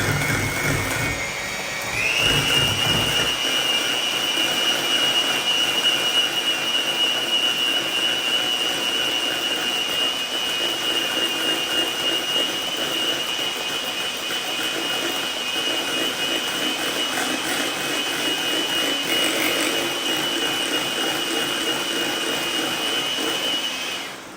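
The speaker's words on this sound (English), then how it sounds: "now I'm just going to use my electric whisk and go for about a minute" An electric whisk beats waffle cone batter in a home kitchen, giving a loud, steady high motor whine that runs unbroken for about twenty seconds with no talking.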